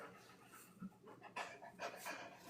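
A dog pants in quick, soft breaths indoors, a few brief louder bursts rising over a quiet background.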